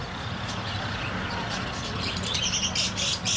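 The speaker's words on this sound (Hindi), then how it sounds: "बहुत सारे बहुत सारे कबूतर है।" Pigeons coo and birds chirp and squawk in short bursts inside a bird shop in Mumbai, over a steady background hum, growing busier toward the end.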